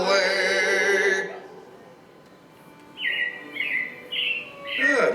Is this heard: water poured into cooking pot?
no